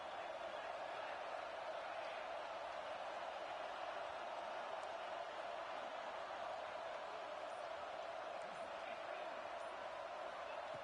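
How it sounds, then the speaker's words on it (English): A steady, even stadium crowd roar in a video game, raised to rattle the offense while the defense is on the field, staying constant throughout, a distant wash of noise with no single voice standing out. "Here comes the crowd noise, trying to help this defense out."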